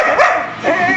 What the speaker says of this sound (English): You're a mouthy dog.